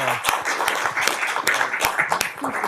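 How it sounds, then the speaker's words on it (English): A meeting room at an Augusta commission session claps for Captain Johnson's return to duty, a lively, close round of applause with sharp individual claps standing out, continuing throughout. "So please join me in giving him a round of applause."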